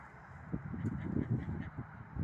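Ducks quack in a quick, uneven series of nasal calls close by, with a few goose honks mixed in against a low background murmur.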